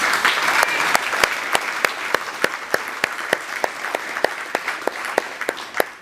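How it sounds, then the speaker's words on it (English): Audience applause at an awards ceremony, a steady wash of clapping from a sizeable crowd with sharp individual claps standing out near the front, fading slightly toward the end. "So this deserves a real heartfelt round of applause."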